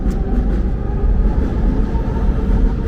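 Kensington Avenue El train at Tioga station in Philadelphia, a loud continuous low rumble and rolling roar of the elevated train passing close by, with no speech.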